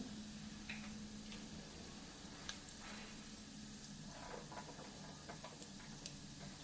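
Cumin, mustard seeds and lentils fry in hot oil in a pan, giving a steady, close sizzle and hiss with small crackles and pops scattered through it, and no talking.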